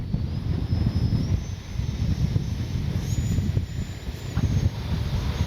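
A fast RC BAE Hawk model jet in flight gives a steady turbine whine and a rushing roar under heavy wind noise, its tone rising and falling as it passes, with no one speaking.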